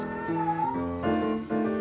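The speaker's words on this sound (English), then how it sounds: "My cat is going berserk right now." A cat meows loudly and insistently, two or three drawn-out, wavering cries in quick succession, close up.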